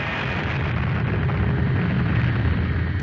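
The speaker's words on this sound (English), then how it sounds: "A colossal explosion, equivalent to the detonation of 10-15 million tons of dynamite" A colossal explosion, likened to 10–15 million tons of dynamite detonating over Siberia, sounds as a continuous loud, dense roaring rumble that holds steady across the clip with no voices.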